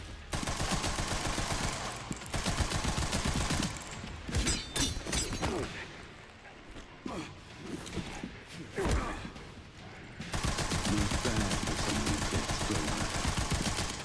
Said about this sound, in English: Try to dodge a submachine gun.